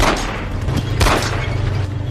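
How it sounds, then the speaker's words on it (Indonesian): A film explosion blasts out as a German tank is hit by pistol fire in a war movie scene, one loud booming burst around the middle over a continuous rumbling battle din, with no voices. "Sebuah ledakan terjadi saat Kapten Miller menembak tank Jerman."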